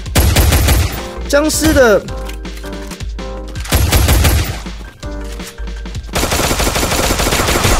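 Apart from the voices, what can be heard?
pistol gunfire in Free Fire video game zombie mode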